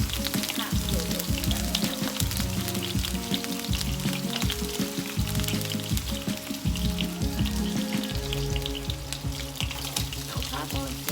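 Corned beef hash fries in hot olive oil in a pan, giving a loud, close and continuous sizzle and crackle that fills the whole stretch with no voices.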